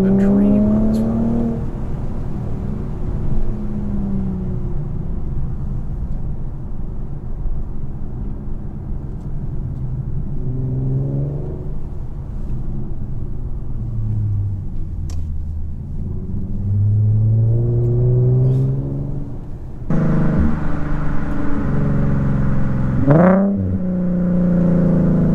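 An Infiniti Q50 sedan of nearly 4,000 pounds, 3.0t or 3.7 engine, drives along a road, its engine holding a steady low rumble with gentle rises and falls as it accelerates and shifts, close and continuous throughout.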